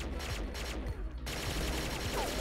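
Dense bursts of M4LV rifle gunfire in the shooter game XSHOT, rapid repeated shots layered over constant background game noise throughout, loud and close with no pauses.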